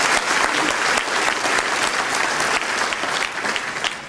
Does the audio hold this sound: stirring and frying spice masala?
no